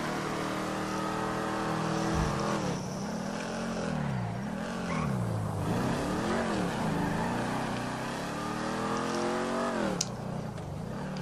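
A Dominator muscle car driven in GTA 5, its engine droning loud and close. It rises and falls in pitch as it revs and shifts through the gears, with a sharp click near the end and no talk.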